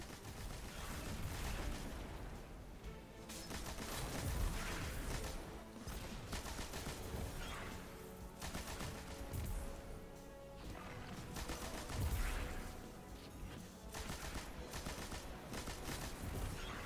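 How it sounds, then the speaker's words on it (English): Sustained automatic weapon fire in Destiny 2 during a solo flawless Downfall run, a dense continuous clatter of rapid shots mixed with crashing impacts and game effects, loud throughout with no talk. "we're just going to use the machine gun to tear through them"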